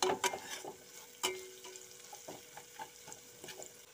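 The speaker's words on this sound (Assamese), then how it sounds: "অলপমান পিঁয়াজখিনি মই ভাজি লওঁ" Onions frying in oil in a pan for a vegetarian ash gourd dish with lentils, a soft steady sizzle broken by several sharp clinks and scrapes of stirring, close by with no talking.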